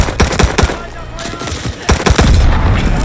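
Rapid pistol shots in a video game, a quick burst of sharp, loud cracks followed by a few more spaced shots and a dense rumble of continued gunfire.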